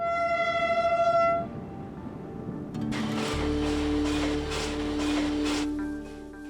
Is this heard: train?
yes